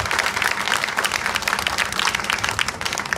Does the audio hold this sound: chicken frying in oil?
no